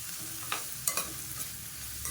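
Crushed garlic and chopped onion fry quietly in a pan, a soft, even sizzle broken by a few brief spoon clinks and stirs.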